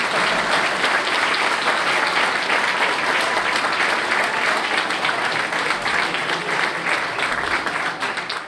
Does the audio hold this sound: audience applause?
yes